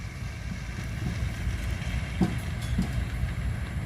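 A new sugarcane harvesting machine works a field in Gerona, Tarlac, Philippines, giving a steady, moderately loud mechanical rumble with a few faint clanks over it.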